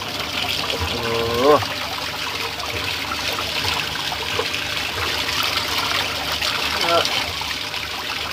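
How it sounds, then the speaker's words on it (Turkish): Mountain spring water trickles and splashes steadily over quartz stones as they are rinsed outdoors, a continuous close wash with brief voices speaking over it. "Kendi yayla suyuyla yıkanıyor."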